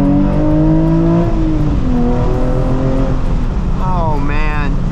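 A Nissan 350Z HR engine revs hard under acceleration, its loud drone climbing in pitch through gear changes and rising again near the end, heard from inside the car while someone talks over it.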